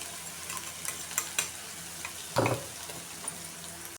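Ground spice paste sizzling and frying in a pan over low gas with cumin and mustard seeds, for a bitter gourd dish; a steady soft sizzle with light stirring scrapes and one brief louder burst midway.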